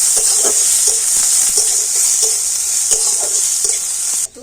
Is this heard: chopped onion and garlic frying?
yes